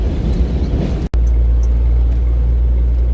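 A Jeep cruising along a road near Fergus makes a loud, steady engine drone and road rumble. Near the start there is a sudden cut of a fraction of a second, then the same constant drive noise carries on with no talk.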